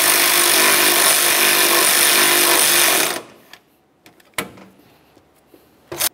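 A power tool snugs mounting bolts on a 2004-2006 Scion xB radiator with a loud, rattling whir for about three seconds, then stops, leaving quiet with a few small metallic clicks and clanks.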